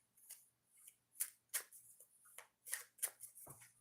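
A deck of oracle cards is shuffled in several quick riffling bursts, close and crisp, with brief pauses between them.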